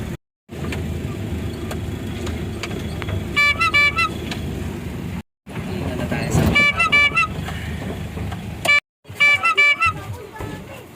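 Heavy road traffic with several bursts of car horn honking, repeated short toots over a steady engine rumble, broken by a couple of brief silent gaps.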